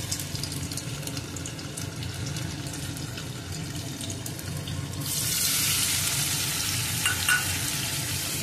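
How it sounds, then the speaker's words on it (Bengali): Paneer frying in oil in a pan makes a steady close sizzle, swelling into a louder, hissier burst midway through, with no speech. "তাই প্রথমে পনিরটাকে একটু ভেজে নেব।"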